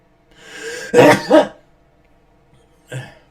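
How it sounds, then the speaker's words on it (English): A sharp sneeze bursts out after a rising breath in, a loud double burst, followed later by a short sniff or throat sound. "I'm gonna sneeze."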